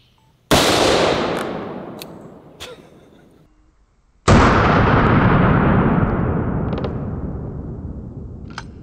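Two deafening .500 Magnum revolver shots fired one-handed, each a sharp blast with a long echoing decay, the second about four seconds after the first; a few faint clicks follow the first.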